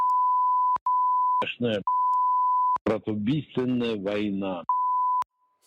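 Steady, loud censorship bleep tones repeatedly cover a leaked phone call of oligarchs insulting Putin, a long continuous beep interrupted by short bursts of Russian speech, then more beeps.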